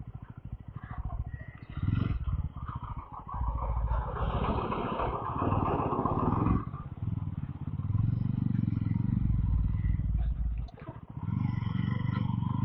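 A Yezdi Roadster motorcycle rides along a rough village road near Jhajjar, Haryana, its engine droning and rumbling with wind and bumps while the rider talks over it.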